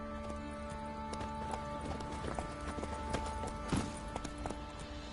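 Hooves of the horse Roach in The Witcher 3: steady, rhythmic clip-clop at a trot, close and moderately loud over a constant game background with tonal music.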